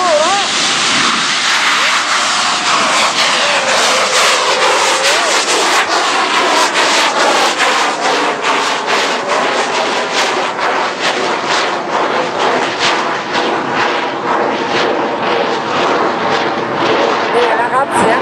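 A giant bamboo rocket launching at the 2016 Kut Wa rocket festival gives a loud, sustained roaring rush with crackling bursts, while a man announces over it and a crowd is heard.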